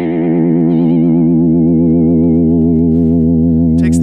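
A loud sustained guitar note wobbles in pitch through a Subdecay vibrato pedal driven by an LFO, the warble steady and close, with a faint scrape near the end and no voices.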